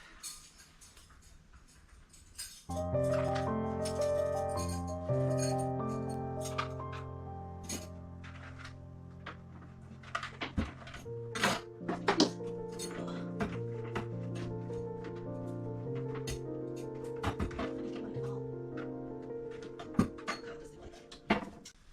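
Glassware and mason jars clink against one another as a glassware cabinet is decluttered, with repeated sharp clinks and taps over a steady tonal background, moderately loud and close, with no talking.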